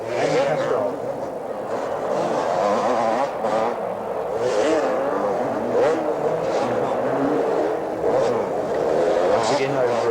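Yamaha YZ250J two-stroke motocross bike racing a 250cc supercross heat in 1982 at the Olympic Stadium, engines droning and revving steadily beneath a commentator's continuous talk and crowd noise.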